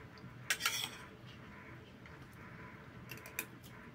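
Cutlery and dishes clinking at a meal of lemon honey garlic chicken wings and boiled beef: a few faint, scattered metallic taps and scrapes against plates, quiet and close, with no talk.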